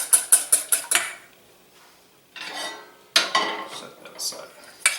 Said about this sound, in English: I do want to whisk these really well